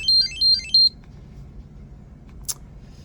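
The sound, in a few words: Google TV Streamer remote ringing from phone locate search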